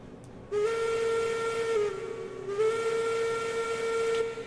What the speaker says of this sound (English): Is that a new whistle, or is that the same whistle that is used for, like, the Class 70?